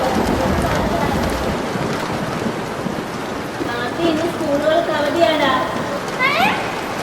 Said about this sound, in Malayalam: ഇന്ന് നല്ലൊരു മഴ പെയ്യുന്നുണ്ട്